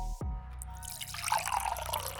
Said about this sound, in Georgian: ჩიკა წყლით გაავსე